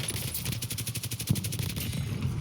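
Rapid automatic fire from the Merrick gun in the Warzone battle royale game, a fast, even rattle of shots close and continuous for a couple of seconds.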